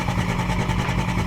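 Toyota Landcruiser 300 series engine running a lumpy-idle map, a loud, steady, close-up rumble with a choppy, uneven pulse throughout.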